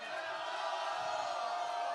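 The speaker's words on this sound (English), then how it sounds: "That's the cheer." A festival crowd cheers loudly and together in a short, sustained burst of whoops and shouts, close and dense throughout.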